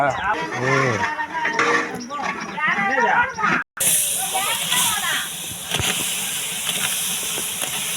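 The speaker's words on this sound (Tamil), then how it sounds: "இப்போ எண்ணெயில் வெங்காயம் வதங்கினுக்குது" Onions fry in oil in a large batch for a wedding-style plain kuska biryani, giving a steady hiss and sizzle that runs under a person talking and then continues on its own after a brief break.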